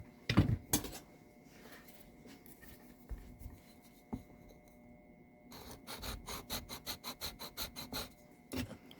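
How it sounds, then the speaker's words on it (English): Scraping and rasping strokes of a chisel and sanding block on wood during a Gibson J-55 guitar repair, a few isolated scrapes early, then a quick rhythmic run of sanding strokes toward the end, close and fairly quiet. "We'll do some final cleanup with a chisel and a sanding block."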